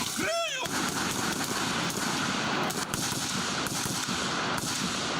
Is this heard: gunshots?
yes